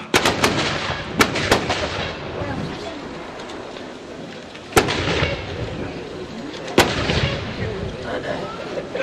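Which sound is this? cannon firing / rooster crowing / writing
cannon firing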